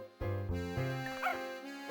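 A cartoonish dog in the puzzle game Professor Layton and the Curious Village gives a couple of short, close, tonal yips and whimpers against quiet background music.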